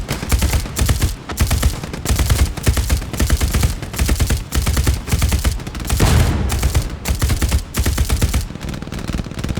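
Rapid automatic gunfire in the WW2 shooter game Hell Let Loose, loud dense bursts of shots firing in quick succession with brief pauses between strings, close and dominant.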